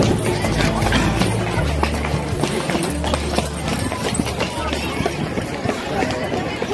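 Horse hooves clip-clop steadily on hard ground near the pyramids in Egypt, a brisk, even trotting rhythm with a murmur of voices and crowd noise around it.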